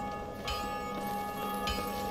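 A bell rings in the video game Dark Souls Remastered, its steady sustained tone standing alone at moderate loudness, with brief swells as it strikes again.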